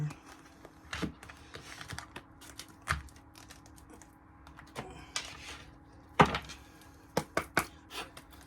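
Tarot cards handled and shuffled at close range, soft papery slaps and riffles in irregular bursts, a few sharper snaps near the end, over a low steady hum.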